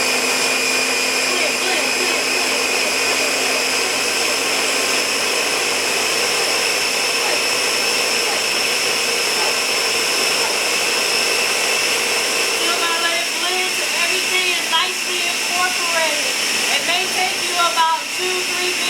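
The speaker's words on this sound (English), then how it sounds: "About 2-3 minutes, depending on the speed of your blender." A kitchen blender runs steadily for a long stretch while lasagna is being made, its motor whine holding constant, with faint talk and clatter toward the end.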